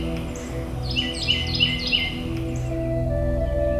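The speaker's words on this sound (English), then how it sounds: "A chorus of birds heralds a new beginning." Birds in the spring woods of the Mississippi Delta flatlands trill a cluster of quick, high chirps over a sustained low musical drone, fairly faint and briefly overlapping, then fading.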